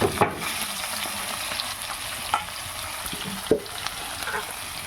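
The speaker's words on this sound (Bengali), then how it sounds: "মাছগুলো এখন একটু ভেজে দেবো" Fish pieces rubbed with salt and turmeric fry in hot oil, producing a continuous close sizzle with a few sharp clinks and spatters from a utensil, no voices over it.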